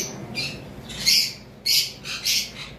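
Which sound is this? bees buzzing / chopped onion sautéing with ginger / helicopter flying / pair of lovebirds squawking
pair of lovebirds squawking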